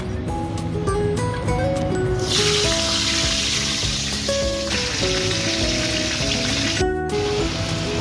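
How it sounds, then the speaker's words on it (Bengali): Fish heads rubbed with salt and turmeric hit hot oil in a kadai and sizzle loudly and steadily, the frying starting a couple of seconds in over soft background music. "তেলটা কড়ার মধ্যে দিয়ে দিয়েছি এবার মাথাগুলো আমি দিয়ে দেবো"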